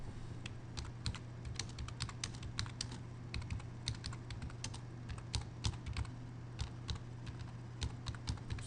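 Steady typing on a computer keyboard, a close, continuous patter of quick key clicks in uneven bursts over a low electrical hum, with no voices.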